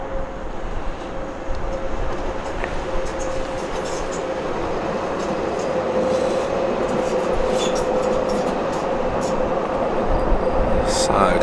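A Docklands Light Railway train rolls past near London City Airport, a steady broadband rumble with a faint high tonal whine that builds slightly toward the end, with outdoor wind and background noise.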